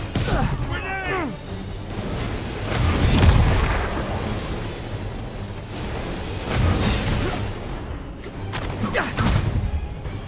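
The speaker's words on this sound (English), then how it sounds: "Grenade!" Booming grenade blasts and crashing impacts erupt in Marvel's Spider-Man Remastered, with whooshes and scattered gunfire-like bursts mixed under voices talking across the scene.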